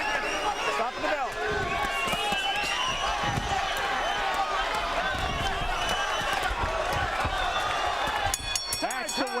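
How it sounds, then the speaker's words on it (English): Boxing crowd on its feet cheering at the end of a fight, a loud continuous roar of voices and whistles with a commentator talking over it throughout. "And the crowd on its feet loved it."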